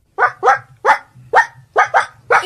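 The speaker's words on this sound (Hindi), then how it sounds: "किसका कुत्ता है ये?" A dog barks close and loud, seven sharp barks in quick, uneven succession, some in pairs, with no talking.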